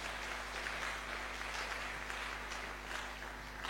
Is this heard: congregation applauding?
yes